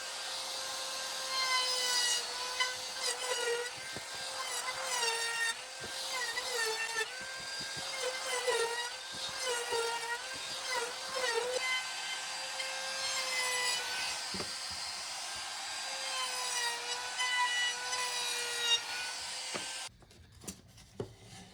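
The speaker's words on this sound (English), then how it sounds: "I'm going to put a 45-degree chamfer on these" A tool cuts a 45-degree chamfer along the face edge of cedar picket boards, giving a sustained, whining, rasping cut whose pitch wavers as the load changes. The sound runs for about twenty seconds and then stops.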